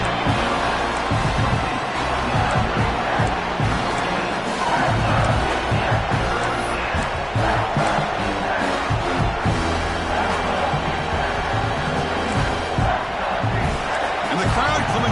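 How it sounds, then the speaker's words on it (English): A stadium crowd roars continuously at a Miami vs Michigan game in College Football 26, a dense, loud wash of noise under a commentator's ongoing play-by-play. "And the crowd coming to life here"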